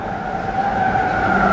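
A 2.6-litre V6 Ford Capri RS 2600 touring racer at the Goodwood Festival of Speed, its engine blaring loud and sustained with a rising howl, amid tyre-smoke racing noise.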